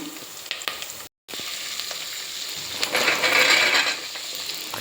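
Field beans (avarekalu) tipped into a hot, oiled pan for sambar, giving a steady, close sizzle and frying hiss that swells after a brief gap, with faint stirring clicks and no talk.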